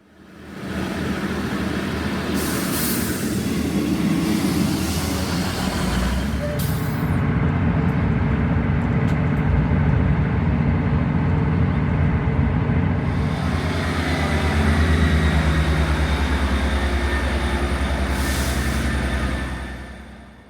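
A ScotRail passenger train running between Portlethen and Stonehaven produces a loud, steady interior rumble with broadband rushing noise that swells and eases, heard from on board and ending with a fade.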